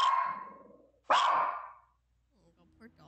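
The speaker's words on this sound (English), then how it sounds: "a dog can be heard barking at it angrily" A dog barks angrily in two loud, harsh bursts close by at night indoors, followed by quiet with faint low sounds.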